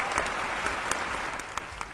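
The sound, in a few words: audience applause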